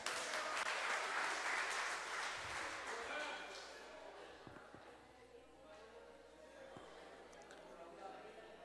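Audience applause during an afternoon lecture, loud and dense at first, then thinning out over several seconds into a quieter room with scattered small noises.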